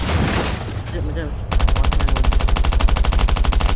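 Rapid automatic gunfire in the survival game Last Island Survival, a steady rattling burst that starts suddenly and runs continuously with loud, evenly spaced shots, following a stretch of talk.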